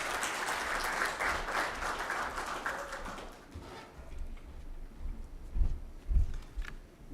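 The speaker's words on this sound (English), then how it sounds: "A round of applause to Liz again." Audience applause at a World Malaria Day event, a brief burst of crowd clapping that fades after a few seconds, leaving only scattered taps and low room noise.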